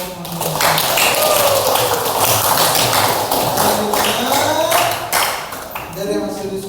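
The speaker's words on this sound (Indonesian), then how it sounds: "Tepuk tangan untuk kelompok manusia." A classroom group finishing its discussion gets a round of clapping, steady dense hand claps running throughout while voices talk over them.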